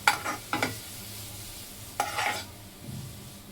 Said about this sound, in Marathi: फक्त हे आपलं मशरूम थोडं ठेवायचं आहे 2-3 मिनटं कुक होईपर्यंत